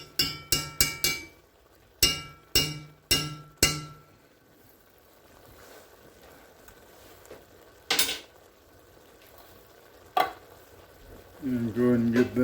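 Chicken and mushrooms are stirred in a sizzling pan with a rapid run of sharp utensil clinks against metal, then a quieter sizzle with a few isolated knocks and a voice briefly at the end.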